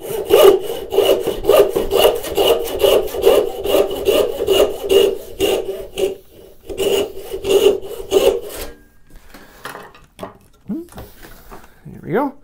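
A hand saw cuts a kerf in a straight razor blank, with steady back-and-forth strokes for about eight seconds before stopping, followed by quieter handling and short scrapes.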